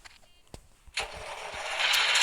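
A tractor engine cranks briefly and catches, then settles into a steady, rising engine roar close by, with a few knocks before it starts.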